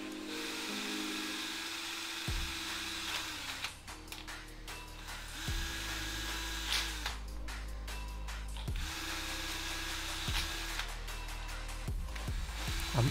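An electric drill whines in repeated bursts, drilling 6 mm holes in the ends of a pipe, spinning up and winding down several times, with rattling and grinding between runs.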